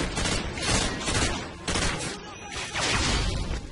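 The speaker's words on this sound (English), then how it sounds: "we're having wild gunfire" Dense, continuous gunfire from the Modern Warfare 2 video game: overlapping shots form a loud, sustained barrage that swells and dips across the whole stretch.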